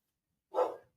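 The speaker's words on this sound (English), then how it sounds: "No, you're not barking, Bubba." A dog lets out a single short, sharp bark at moderate distance, with silence before and after.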